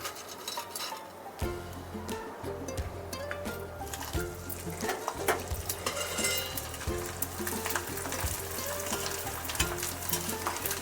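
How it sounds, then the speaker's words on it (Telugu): Onion vadiyalu, rice flour fritters, frying in hot oil on a medium flame, a steady dense sizzle with crackling bursts and occasional stirring clinks, close and continuous. "ఇట్లా స్టవ్ మీడియంలో పెట్టి ఇట్లా వేయించుకోండి ఈ ఆనియన్ వడియాలు"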